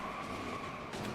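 A race car in the NASCAR Heat 4 game steps out as its tires lose grip, a sustained tire squeal and skid over engine noise, steady and close for about a second with a slight rise at the end.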